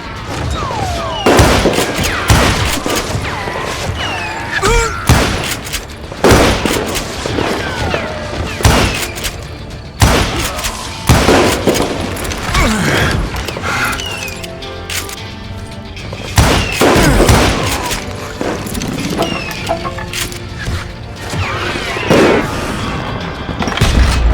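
Gunfire in the Western shooter Call of Juarez: Gunslinger, with loud sharp revolver and rifle shots cracking in irregular clusters and echoing booms between them, close and dominant throughout.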